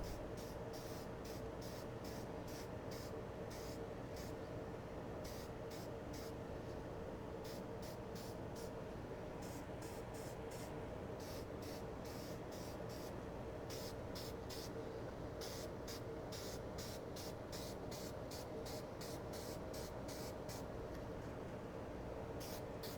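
Spray paint hisses in a light first coat onto the body of a Revell 1:24 scale Daytona Spyder model car, as short repeated bursts over a constant airy background, close and steady, with no voices.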